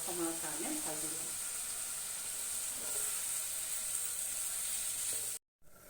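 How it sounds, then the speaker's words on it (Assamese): Black urad dal fries with salt in a pan, giving a soft, steady sizzling hiss heard faintly and continuously, with a brief voice at the start and a short cut to silence near the end. "প্ৰয়োজন অনুসৰি নিমখ দি অলপ সময়ৰ কাৰণে ভাজি লওঁ"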